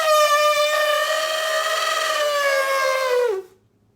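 A person vocally imitates an elephant trumpeting: one loud, sustained, bright wail lasting over three seconds, dipping slightly in pitch near the end before stopping abruptly, with no other sound around it.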